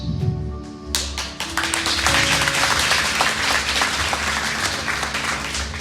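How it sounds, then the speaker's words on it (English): An audience at an AVID banquet breaks into applause, sustained dense clapping that swells in after a moment over a faint background hum and continues steadily. "Don't clap too long"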